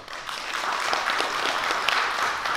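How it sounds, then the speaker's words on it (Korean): Guests at a 2020 literary award ceremony and book launch give brisk, steady applause, a close and fairly loud wash of many hands clapping for a few seconds. "따뜻한 위로와 축하의 큰 박수 부탁드립니다"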